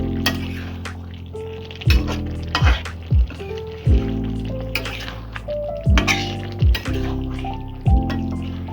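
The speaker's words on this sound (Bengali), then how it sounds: "1/2 চামচ মতন গরম মশলা দিয়ে দেব। একটু নাড়াচাড়া করে নেব।" Garam masala being stirred into a jackfruit curry in a pan, with a steady sizzle and a series of sharp spatula scrapes and knocks against the pan at irregular intervals, close and fairly loud.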